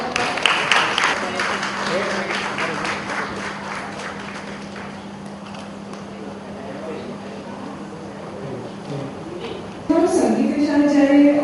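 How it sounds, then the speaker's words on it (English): Audience applause at a 2014 community gathering during a trophy felicitation, a broad hall-wide clapping wash with a steady hum underneath, fading down and then swelling again near the end as talk begins. "Please give her a huge round of applause."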